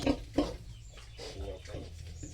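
Newborn piglets on a farm, nine healthy ones together in their pen, give a couple of sharp squeals at the start, then a softer mix of grunting and rustling continues with low voices in the background.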